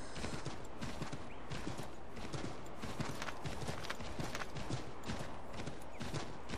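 Horse hooves clip-clop in a steady galloping rhythm in Assassin's Creed III, close and continuous over a constant noisy game backdrop, with no talking.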